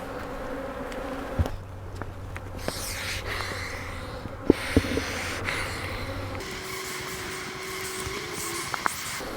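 Honey bees buzz steadily around a strong, crowded beehive in a bee yard, a dense close drone with a few louder passes and brief knocks, no talking.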